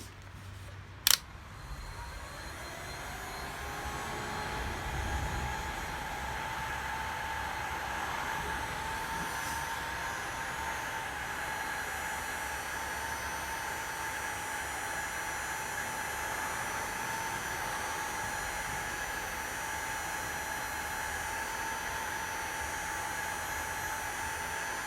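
A heat gun runs steadily while warming a dented plastic bumper cover, with a constant blowing hiss and whine held at even loudness throughout, after a brief click near the start.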